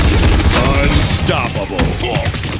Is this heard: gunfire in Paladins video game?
yes